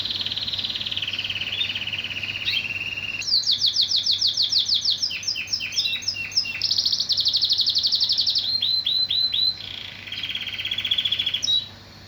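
Canary of the large, strong-singing Lancashire-type variety sings in fast trilled phrases and rapid chirps, close and fairly loud over a low steady hum, with song running almost continuously and no talking.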